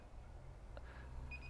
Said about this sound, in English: The HiSight's going to start beeping, signifying that the endpoints have not yet been set.